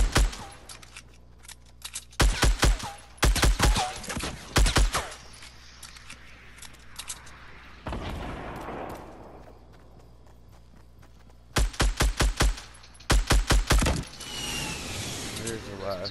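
Gunfire in a Fortnite battle royale match, several rapid bursts of sharp shots in clusters separated by quieter stretches, loud and close.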